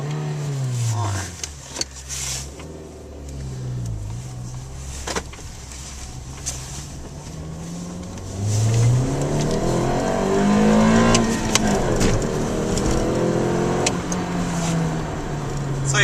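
A Mini Cooper R50 with a stainless steel sports exhaust revs and pulls away from a junction, heard from inside the car. The engine note rises and falls steadily and swells louder partway through.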